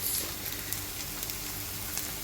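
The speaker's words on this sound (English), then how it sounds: "So the chicken schnitzels are sizzling away" Steady, soft sizzling of crumbed chicken schnitzels frying in a pan, a continuous crackly hiss with no voices.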